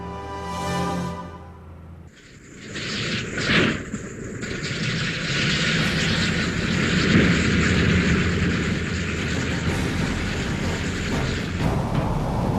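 Engines of B-17 Flying Fortress bombers roar steadily and loud after a brief quieter start, a broad continuous drone that fills the whole clip without any talk.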